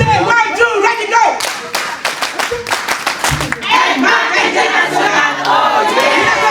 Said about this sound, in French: Une acclamation pour notre GMT.